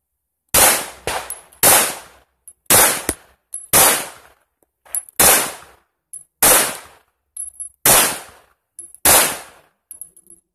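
Girsan MC1911 pistol fired in a steady string of about a dozen loud, sharp shots, each cracking close by and ringing off briefly, with short uneven gaps between them.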